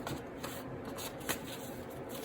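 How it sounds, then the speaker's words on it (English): Soft, quick riffling of a deck of cards being shuffled, a quiet continuous flutter with a few light taps. "let me go ahead and shuffle this"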